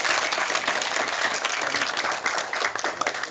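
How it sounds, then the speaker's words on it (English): An audience applauds at a live event, a dense, even wash of clapping from many hands that carries on without a break. "And one more round of applause to Madison."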